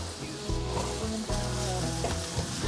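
King oyster mushroom and carrot stir-frying in melted butter, a steady close sizzle with stirring scrapes and spatula knocks, no voices.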